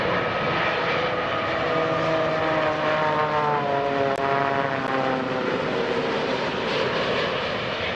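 A Japan Air Boeing 787 making an emergency landing with its ram air turbine deployed, heard as a loud, steady droning roar with a whining propeller-like tone that slowly shifts in pitch throughout.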